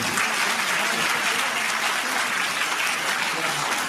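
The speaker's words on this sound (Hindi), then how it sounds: "जोरदार ताली बजा रहे।" Steady, dense applause from a large crowd at a short film launch event, loud and continuous throughout without pause.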